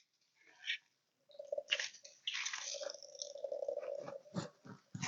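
Hands squeeze leftover liquid out of spicy kimchi, giving soft, wet squelching and squishing. The sounds are fairly faint and close, and they run almost continuously after a brief pause.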